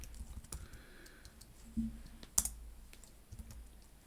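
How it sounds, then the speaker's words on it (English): Computer keyboard typing during a live coding session, a few sparse clicks and keystrokes, with one sharper click near the middle, fairly quiet and close against a low background hum. "yeah, you can carry on typing."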